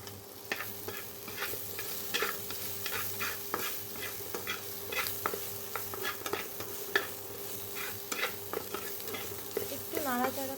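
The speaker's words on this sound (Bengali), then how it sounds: "এই আদা কুচিটাকে মানে বাটাটাকে আমি ওই পেঁয়াজ ভাজার সাথে এবার একটু হালকা করে ভেজে নেব।" Ginger paste frying with onions in a pan, a steady close sizzle with frequent spoon scrapes and stirring clatters throughout, a faint hum underneath, and no talking.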